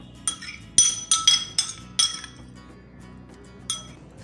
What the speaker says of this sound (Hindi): इन सबको मैं छलनी में डाल दूँगी।